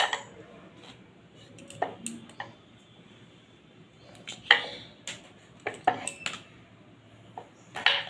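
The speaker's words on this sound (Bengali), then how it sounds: "এবার আমি কেটে নেবো। দুপাশ করে কেটে বীজটাকে বের করে নেবো।" A steel knife cuts through peeled raw green mango on a hard surface, giving irregular sharp clicks and taps of blade against board, spaced apart in a quiet kitchen.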